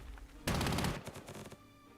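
Artillery bombardment in the strategy game Panzer Corps 2 during a Norway invasion battle: a loud, sudden barrage of rapid, rattling blasts that peaks sharply, then thins into scattered crackling shots and fades away.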